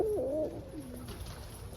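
Roller pigeons, including a black grizzle cock, cooing close by: a single low, rolling coo swells and wavers in the first half-second, then trails off into quieter murmurs.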